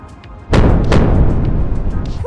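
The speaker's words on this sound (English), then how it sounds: "Whew, sonic booms!" A solid rocket motor roars into launch in Kerbal Space Program, with two sharp sonic booms cracking near the start before a sustained, loud, rumbling thrust carries on.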